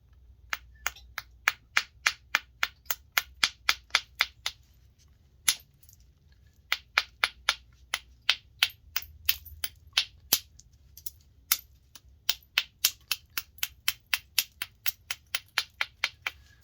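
An agate Clovis point has its edge trimmed by flintknapping. Sharp, crisp clicks and snaps come in quick rhythmic runs, separated by brief pauses, close and distinct with no voices.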